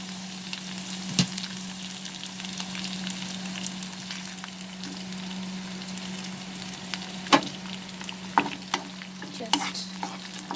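Garlic and onion sauté in a pan over a medium flame, giving a constant close sizzle over a low steady hum, with scattered spatula scrapes and taps that grow busier toward the end; no voices.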